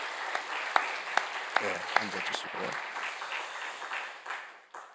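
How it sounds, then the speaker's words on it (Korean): A church congregation at a dawn worship service gives a short round of applause, with scattered claps that fade as someone speaks over them, asking people to sit down. "격려 박수 보내시겠습니다."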